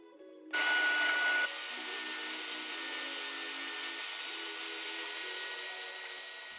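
A power drill whirs steadily as holes are bored into wood through a dowel jig, starting with a brief higher burst and then running at an even, close, loud pitch.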